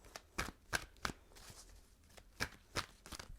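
Tarot cards are shuffled by hand in a quiet room, giving a series of soft, quick riffling snaps and flutters, close and fairly faint, with no talking.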